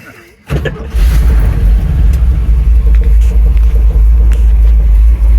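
A 1975 Chevrolet C10 pickup truck pulls away as the clutch is let out, its engine rising from a brief start into a loud, steady low rumble that stays close for several seconds, with no talk.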